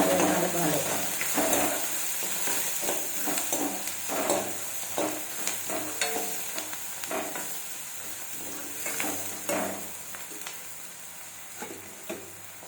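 Bitter gourd with salt and turmeric being stirred in a frying pan, giving a steady sizzle broken by repeated scraping strokes from the spoon, close and fairly loud.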